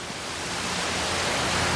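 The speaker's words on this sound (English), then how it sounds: "immediately you can hear the sound of water" Steady broadband rush of running water from a kids' water park feature at an apartment complex facilities area, continuous and fairly loud, with no talk over it.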